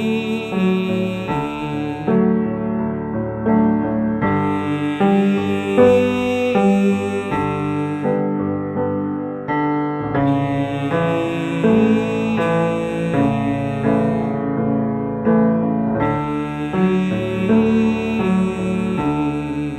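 A chord progression starting on the seventh in first inversion plays as sustained harmonic chords that change every couple of seconds, loud and clear, with no voices.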